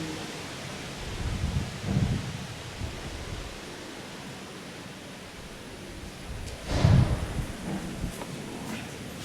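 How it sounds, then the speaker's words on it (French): Broad, steady wind noise buffeting a microphone at a sanatorium, with two louder low gusts rumbling through partway in; no voices. "C'est le vent."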